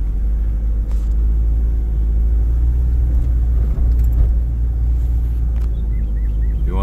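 Steady low rumble of a car cruising a bumpy road under construction with the windows open, wind and road noise constant, a few faint knocks and rattles, no talking.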